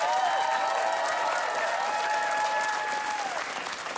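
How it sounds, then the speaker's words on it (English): A studio audience gives a sustained, full round of applause for a guest, a thick, continuous roar of clapping. Cheers and whoops rise above it before the clapping tapers off slightly at the end. "perhaps the biggest non-partisan applause the honourable member for Ottawa West Nepean got"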